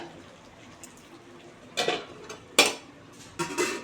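A metal lid is set back onto a cooking pot of greens and prawns, giving three distinct clanks and rattles close by over a quiet background.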